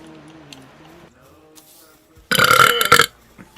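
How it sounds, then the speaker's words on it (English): A loud, single drawn-out burp from a man, heard up close after a stretch of quiet background sound. "No, I burped."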